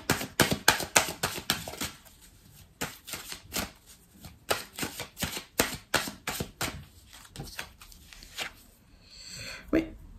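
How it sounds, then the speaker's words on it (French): Tarot cards being handled and flipped over on a table, a quick run of sharp papery snaps and taps in close succession, fairly soft, with a voice talking between them. "Couvrir quelques cartes."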